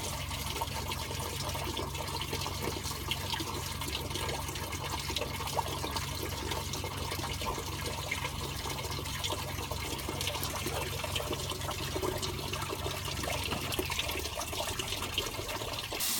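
Water gushes continuously out of the top radiator hose of a Ford Fiesta XR2i during an engine coolant flush, a loud, steady splashing rush that stays even throughout with no talk.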